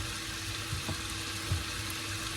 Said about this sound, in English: we will put this mince onto the frying pan